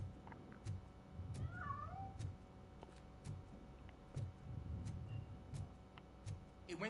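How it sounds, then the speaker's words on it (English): A cat in the video game RoboCop gives a pair of short, faint meows amid quiet ticking and soft background noise. "That cat must be hiding inside."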